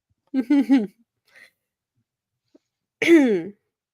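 Two short bursts of coughing, a harsh cluster early on and a louder single hack near the end, close to the microphone with quiet between.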